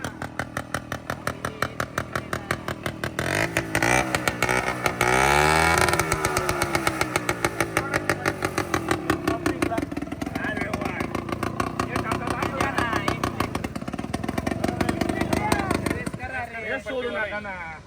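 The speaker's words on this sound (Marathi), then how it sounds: "आता बघूया तो ट्रॅक्टर पळतो का काय" A small mini tractor engine chugs in rapid, regular pulses, revving up briefly partway through before settling, while people talk nearby.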